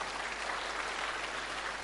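A church congregation claps in a steady, dense wash of applause, sustained and even throughout with no voices standing out.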